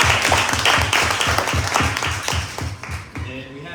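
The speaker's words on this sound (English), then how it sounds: "So another round of applause." Audience applause at a young professionals event with a guest speaker, steady rhythmic clapping from a modest crowd, loud and close, thinning out toward the end.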